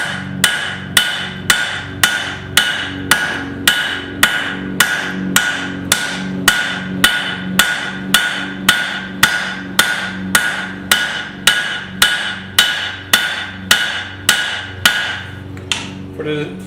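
Hammer blows ring on hot steel being forged into a garden cultivator, a steady rhythm of about thirty sharp, loud strikes close by, each with a short metallic ring.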